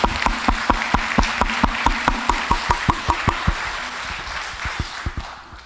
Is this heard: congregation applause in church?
yes